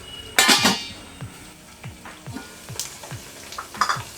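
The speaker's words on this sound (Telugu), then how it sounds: "ఇది బాగా వేగాలి, వేగే వరకు ఇలా తిప్పుతూ వేయించుకుందాం" Minced mutton keema sizzles quietly in a pan while a utensil stirs and scrapes against the metal in a series of soft clinks, opening with a louder clatter of the pan.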